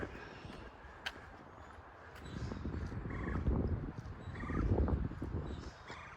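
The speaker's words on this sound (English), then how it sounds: "I hope you like birds if you're going to live here, because there's lots of them." Several birds call outdoors, harsh raspy cries rising and falling over a steady background hum, fairly close.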